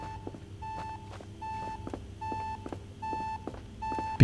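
A video game, The Entropy Centre, gives off a repeating electronic beep in even pulses about every 0.6 seconds, clear and alone over a low background hum.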